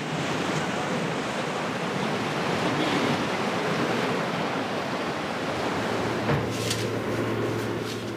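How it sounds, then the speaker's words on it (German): Strong ocean surf on the Lofoten coast roars as a steady, broad wash of breaking waves, continuous and loud, with gusty wind noise buffeting the microphone. "Die Brandung wird zu stark."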